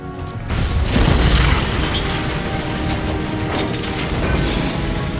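Explosive gel detonates in the Batman: Arkham Asylum video game. A heavy boom and crash is followed by rumbling debris and mechanical clatter that stays loud and dense for several seconds.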